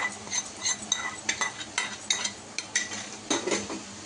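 Tempering with curry leaves stirred into crispy frying potatoes in a pan for aloo fry, heard as a steady run of close metal spoon scrapes and clinks against the pan over a faint sizzle, with no talking.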